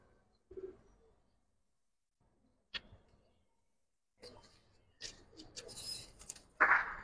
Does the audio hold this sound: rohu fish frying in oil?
no